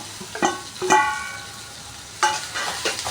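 Okra pieces drop into a hot pan with turmeric, giving a few bright metallic stirring clinks and a low sizzle, short and close.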